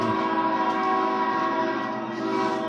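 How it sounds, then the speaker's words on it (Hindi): A train on a railway track, sounding as a steady, loud, continuous rumble with sustained horn-like tones, filling the whole stretch without any voices. "सामने पीछे से ट्रेन उसकी ओर आ रही होती"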